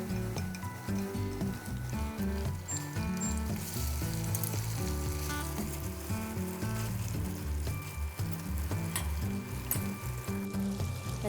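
Ground pork frying in a pan for pork liver pâté, a steady sizzle running under soft background music through the whole stretch.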